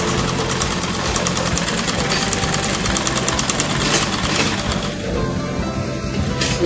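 A sewing machine stitches slanted darts on a skirt, giving a loud, steady motor drone with a rapid, even clatter that carries on without a break.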